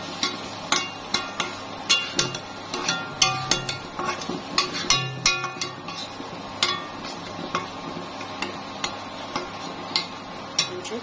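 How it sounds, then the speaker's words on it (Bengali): Shrimp being stirred in a cooking pan, a steady run of sharp metallic ticks and scrapes from the utensil against the pan, repeating irregularly for about eleven seconds over a quiet background without talk. "এইগুলিকে আমি এখন ভালোভাবে নেড়ে চেড়ে নিচ্ছি"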